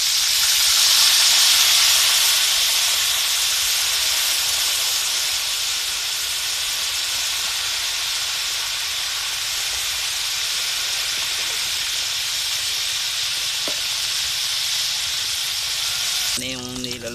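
Crab fries in hot oil with a loud, steady sizzle and hiss that continues for a long stretch, ending with a brief clatter.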